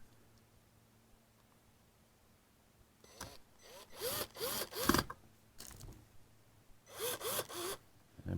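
Low-torque power drill driving three small screws into a Solity GT5BK Wi-Fi smart lock, heard as a few short close whirring bursts after a quiet start, with a couple more bursts near the end.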